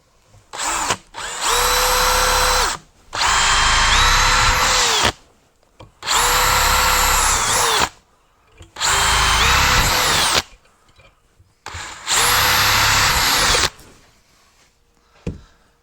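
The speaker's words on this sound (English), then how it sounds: "going to put my drill bit through it." A power drill whines loudly through aluminum in four long bursts of a few seconds each, with short quiet gaps between them, close up.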